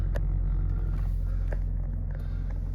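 A Land Rover Range Rover Sport 4.4 SD V8 Autobiography Dynamic idles with a low, steady rumble and occasional faint clicks, sounding close and unchanging.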